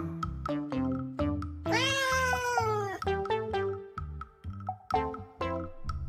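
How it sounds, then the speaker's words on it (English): A cat meows repeatedly over a bouncy children's music track, with a long drawn-out caterwaul in the middle and shorter meows around it. "Cat."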